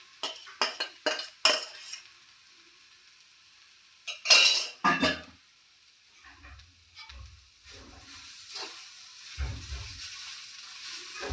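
Mashed potato, boiled with a pinch of turmeric and salt, being added to a cooking pot and stirred: a flurry of metal spoon clanks against the pot, then a soft, steady sizzle and scraping as it cooks.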